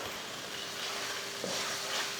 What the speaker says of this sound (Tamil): இந்த மாதிரி எண்ணெயில் ஒரு 2 நிமிஷத்துக்கு இந்த மாதிரி வதக்கி விட்டுட்டு